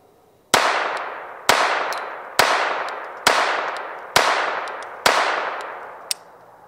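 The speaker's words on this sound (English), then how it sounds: "And we're going to be shooting some standard velocity." Six sharp shots from a Walther TPH .22 LR pistol firing standard velocity ammunition at a range, spaced roughly a second apart, each crisp and loud with a short decaying tail, followed by a faint click.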